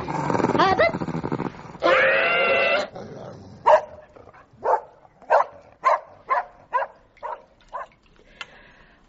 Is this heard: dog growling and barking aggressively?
yes